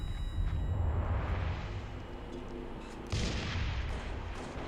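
A grenade blast in Halo MCC multiplayer: a loud, booming burst with rumbling gunfire-like crackle, then a second sharp surge of noise partway through, with no voices.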